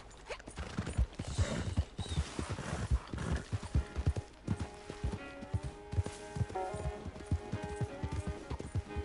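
Hooves of a horse in the Red Dead game clip-clop in a steady rhythm, close and fairly loud, with a brief whinny near the end over faint game ambience.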